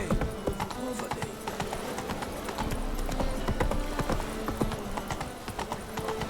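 Hooves of Roach, Geralt's horse in The Witcher 3, clatter in a fast, steady galloping rhythm close by for several seconds, with an occasional whinny and a faint voice underneath.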